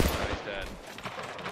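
Rapid bursts of gunfire from the video game Apex Legends Mobile crackle through a short, dense stretch, moderately loud and continuous.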